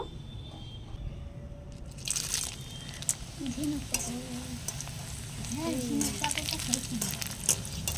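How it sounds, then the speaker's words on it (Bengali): Shell-shaped papad fries in a pan of hot oil with a steady sizzle and crackle that grows busier as more pieces go in, while people talk nearby. "এবার আমি ঝিনুক পাঁপড় ভেজে নেব।"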